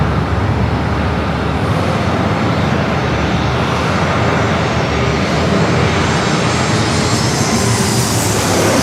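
A United Boeing 737 MAX 8 arriving from Newark roars steadily at San Diego airport, a loud, broad jet-engine rumble holding constant throughout with no voices.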